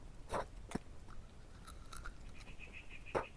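A few sharp, separate cracks and crunches of teeth biting into a hard nut shell, with small rustles in between and no talking.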